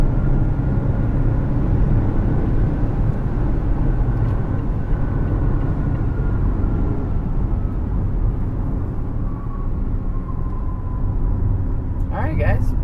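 A 2019 Mazda CX-9 Grand Touring accelerating hard in sport mode on a test drive, a steady loud engine and road rumble from inside the cabin with a rising tone, ending in a brief clatter.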